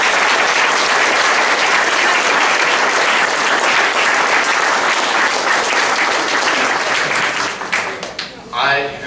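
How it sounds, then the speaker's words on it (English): Loud, sustained applause from the audience at a North Providence Mayor's Youth Commission recognition night, filling the room steadily before tapering off near the end, with a brief voice coming through as it fades. "right now they deserve one huge round of applause"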